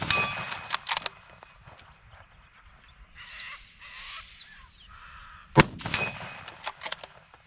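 Rifle bullets from a 30-06 ring off steel targets: a few sharp metallic clangs with ringing tails, spaced a few seconds apart, heard at a distance outdoors with faint background noise between hits.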